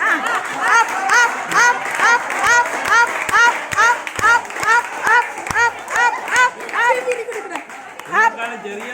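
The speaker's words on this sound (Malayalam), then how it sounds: "ഒന്ന് ക്ലാപ്പ് പിടിച്ചെല്ലാരും ഇതാക്കിയ ക്ലാപ്പ്." A group of teachers at a get-together clap in a steady, rhythmic unison beat, about two claps per second, close and lively, with people chattering and laughing over it.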